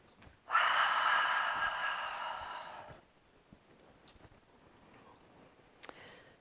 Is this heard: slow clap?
no